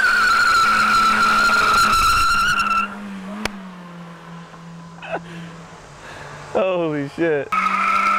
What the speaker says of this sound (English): he's gonna give you guys a little burnout right in front of the crib